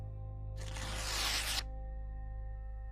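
A paper calendar page is torn and crumpled in one quick, bright ripping burst lasting about a second, close and clear over a steady low hum.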